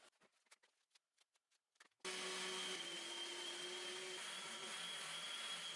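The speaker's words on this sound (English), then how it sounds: "so I'm going to be sanding it." After a few soft taps and clicks, a power sander starts up and runs steadily against the side of an oak dresser, a loud, even whirring hiss that holds for several seconds.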